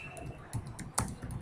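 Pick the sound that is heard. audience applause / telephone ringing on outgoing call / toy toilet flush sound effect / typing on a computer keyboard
typing on a computer keyboard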